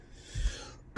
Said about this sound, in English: I got to get rid of this cough